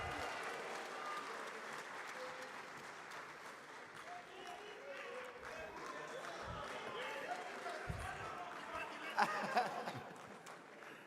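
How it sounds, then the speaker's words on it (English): A conference audience at an international banking meeting claps in a round of welcome, a soft, diffuse patter of many hands heard from a distance with murmuring and crowd noise mixed in, swelling slightly near the end. "Let's make welcome one of our own, Asamoah Gyan. A round of applause."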